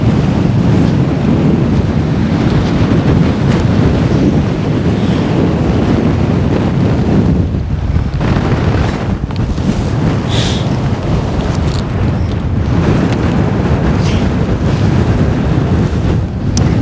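Strong, continuous wind on a Scottish mountain summit in Glen Lyon roars and buffets across the microphone, loud and unbroken, with no voices.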